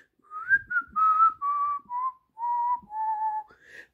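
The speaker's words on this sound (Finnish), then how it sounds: "vihelletään näin." A person whistles a tune from a Finnish street-boys' song, clear and close, a melodic run of sustained notes stepping gradually downward, alone.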